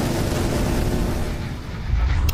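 Booming, rumbling blasts of gunfire and explosions in the VRChat video game: a dense, continuous low roar with rolling impacts, loud and sustained, and a brief sharper burst near the end.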